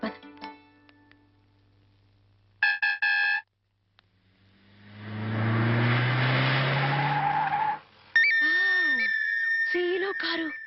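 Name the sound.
car tyres skidding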